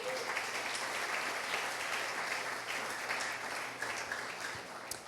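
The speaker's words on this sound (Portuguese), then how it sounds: "Vamos aplaudir ao Senhor?" Church congregation applauding during a worship service, a steady moderate round of many hands clapping heard from a short distance, holding for several seconds and easing slightly toward the end.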